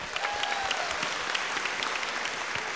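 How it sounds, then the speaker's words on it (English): An audience at a school convocation tech trivia event applauds contestants, a steady wash of dense clapping throughout, fairly close and even in loudness. "Let's give our contestants a round of applause"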